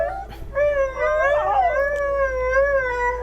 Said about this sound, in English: And here is Moss, the singing dog, in the Cymoscope.